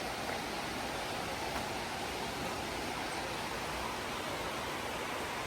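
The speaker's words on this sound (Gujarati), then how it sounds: "તો કંઈક ધોધ છે, આમ પાણી જાય છે નીચે" Steady, dense rushing of a waterfall at Tamborine Mountain, Queensland, a continuous broadband roar with no breaks, loud and close throughout, during light drizzle.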